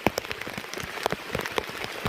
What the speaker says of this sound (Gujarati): વરસાદ એટલો ફૂલ જોરથી છે કે વાત નહીં પૂછો